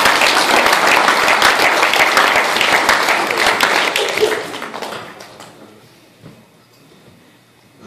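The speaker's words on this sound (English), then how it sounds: "give the gentleman a big round of applause for what they just did" Audience applause at a hypnotist stage show, a loud, dense burst of clapping from the crowd that holds for about four seconds, then tapers and fades into near quiet with a few scattered claps.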